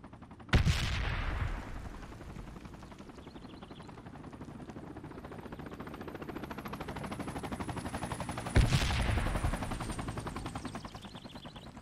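Gunfire in Project Reality as USMC forces fight: rapid machine-gun bursts rattle continuously with two sharp loud blasts standing out, a helicopter-like whine running underneath.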